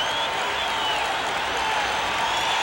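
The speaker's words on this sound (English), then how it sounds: "Crowd yelling again for him" Baseball stadium crowd at a Seattle Mariners at Boston Red Sox game, a sustained loud roar of yelling, cheering and scattered clapping that fills the whole moment without pause.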